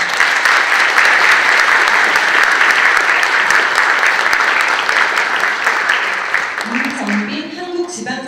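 Audience at a formal Sejong City administrative capital forum applauding an introduced dignitary, loud continuous clapping that tapers near the end as music comes in.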